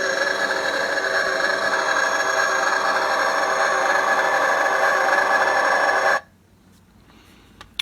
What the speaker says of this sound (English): the engines.